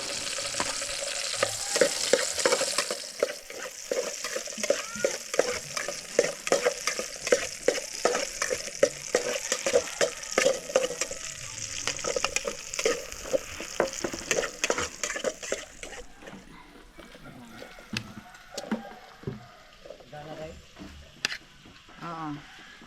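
Squid sautéing in a hot pan with a loud, bright sizzle and rapid, rhythmic stirring scrapes that thin out toward the end, with people talking in the background.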